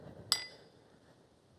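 A hammer strikes metal once with a bright, ringing clang that fades slowly, and a second strike is cut off at the very end.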